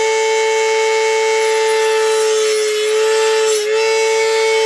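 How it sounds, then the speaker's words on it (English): A power grinder with a disc shapes a custom knife handle, a steady high-pitched whine with strong tonal bands and abrasive rasping, loud and continuous with a brief dip near the end. "I am grinding them down quite easily."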